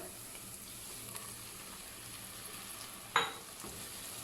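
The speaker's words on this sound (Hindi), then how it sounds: "अब इसमें मैं डालूँगी टमाटर" Faint, steady sizzling of tomatoes frying in a pan, with one sharp clink or scrape partway through; quiet and close, no voices.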